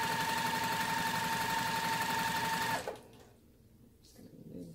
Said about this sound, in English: We're going to stitch 1/4 inch away from the edge of my pieces here.